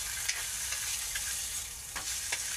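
Lomi ingredients fry in hot oil in a pan, giving a constant close sizzle with sharp spattering pops scattered through.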